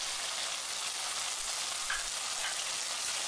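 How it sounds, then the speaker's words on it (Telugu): Green tamarinds go into a prawn curry frying in a pan, producing a dense, even hiss of sizzling that holds steady at close range without pauses or voices. "ఇప్పుడు చింతకాయలను వేసుకుని"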